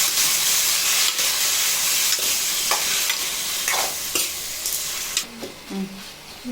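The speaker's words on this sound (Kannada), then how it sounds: "ಟೊಮೆಟೊನ ಎಲ್ಲ ಹಾಕಿ ಚೆನ್ನಾಗಿ ಹುರಿಬೇಕು" Tomatoes, onion and garlic frying in a pan for tomato chutney, a loud continuous sizzle broken by repeated stirring scrapes and clinks, with a few spoon knocks near the end.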